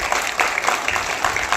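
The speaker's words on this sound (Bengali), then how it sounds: "হাততালি" An audience claps at a theater festival on the Naihati Oikatan Mancha stage, steady crowd applause with rhythmic bursts of hand claps at moderate distance and a voice faintly underneath.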